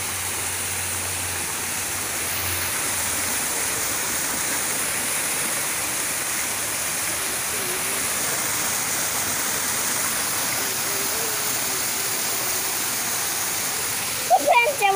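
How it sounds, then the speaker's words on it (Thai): A waterfall roars in a steady, dense wash of rushing water close by, continuing throughout with a brief voice and handling noise at the very end. "อุ้ยน้ำตก"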